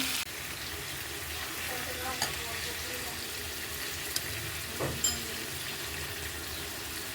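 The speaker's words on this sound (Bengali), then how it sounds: "মাছ আর বড়ি একসাথে কষায় নিচ্ছে।" Tengra fish and pumpkin bori frying together in a pan, a steady hiss of oil with a few small pops and stirring clinks, close and even throughout.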